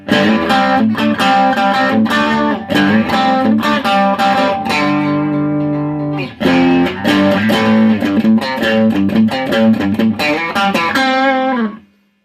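A distorted electric guitar, a Slick World Tour Series HSS Strat-style with its bridge humbucker split to single coil, has a thin single-coil tone and plays a chugging riff of chords and single notes, loud and continuous with a short pause midway.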